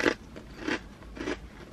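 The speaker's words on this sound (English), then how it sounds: "They are so crunchy and salty and delicious." Crunchy Chick-fil-A waffle-cut potato chips bitten up close, three sharp crisp crunches spaced a little over half a second apart with quieter chewing crackle between them.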